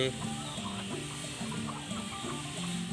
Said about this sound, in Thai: ไก่ไข่